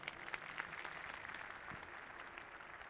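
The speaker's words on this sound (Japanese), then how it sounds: "改めて各社様にも大きな拍手" A hall audience at Nagoya Grampus's 2021 new-season team presentation gives a soft, continuous round of applause for the club's partner companies, a faint dense patter of many hands.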